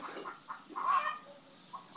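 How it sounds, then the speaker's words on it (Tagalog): A chicken clucks in short, agitated bursts, close and moderately loud, with a sharper squawk in the middle and brief gaps between calls. "So, nagalit yung manok."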